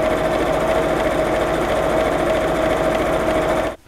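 A sewing machine joins pieces of a child's shirred dress with one loud, continuous mechanical hum that runs unbroken for several seconds and then cuts off abruptly.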